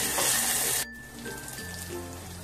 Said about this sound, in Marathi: छान हलवून घ्यायचंय तेलामध्ये.